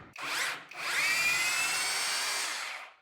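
A cordless GENAI 21V hammer drill drives a screw: a loud, close motor whine starts, breaks off briefly, then runs steadily for over two seconds before winding down.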